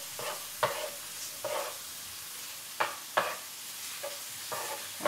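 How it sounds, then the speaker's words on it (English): Cooked rice mixture sautéing in a pan for Spanish fried rice, a low background sizzle punctuated by a series of rhythmic scraping strokes of a spoon stirring through it. "I just want to saute this just a little bit"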